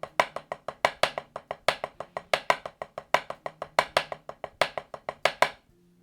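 Drum taps in a repeating triplet accent pattern in 9/8, played alone with crisp, evenly spaced strokes and regular louder accents, close and clear for about five and a half seconds before stopping.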